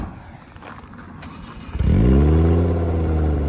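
A car pulls away hard from a standstill: after a stretch of low rumble, the engine suddenly roars loud and close, with rising revs that hold steady through the end.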